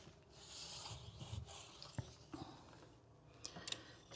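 Blade cutting caulk along the edge of a stuck Formica kitchen countertop, faint scratchy rubbing and rasping strokes with a few small clicks, close but quiet.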